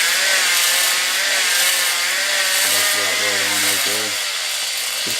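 A drill whines steadily while cutting into a small-block engine during a camshaft swap, loud and continuous through the clip, with a brief lower tone near the end.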